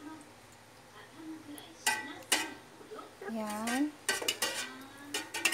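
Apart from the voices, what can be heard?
mixing gulaman pandan in a bowl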